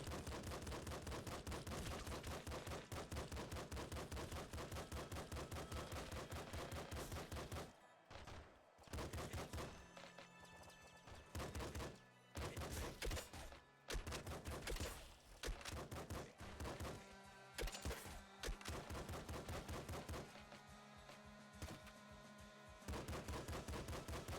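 Rapid bursts of gunfire from the top-down shooter Nuclear Throne, with dense loud volleys that stop briefly midway and then resume, fired in quick spammed strings with no talking.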